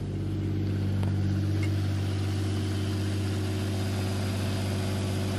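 A JZ-engined car idles steadily after an alternator upgrade, a close, even low hum with a smooth, constant drone and no talk.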